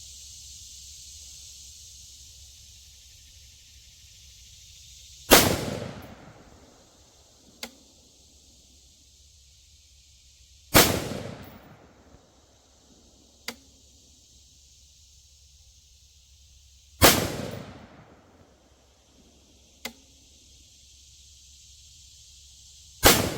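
Rifle shots from a budget SPR build pairing a Bear Creek upper with a Palmetto State Armory lower, fired at a paper target outdoors: three sharp, loud reports spaced several seconds apart, each followed by a fainter delayed crack or echo.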